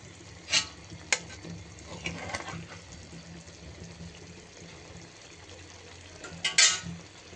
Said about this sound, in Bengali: একেবারে শুকনো শুকনো করে রান্না করছি লইট্টা মাছ।